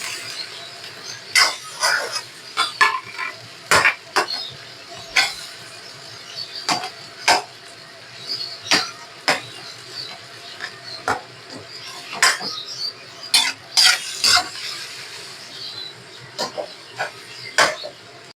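Crushed tuna stirred and fried with onion and tomato in a pan: repeated sharp scrapes and clinks of a utensil against the pan over a steady soft sizzle, close by.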